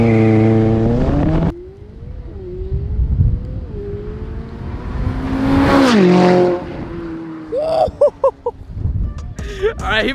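A McLaren 570S launches hard under launch control, its engine revving in loud rising harmonic sweeps that climb through the gears, with brief shifts and a tire-like squeal near the end while voices talk over it.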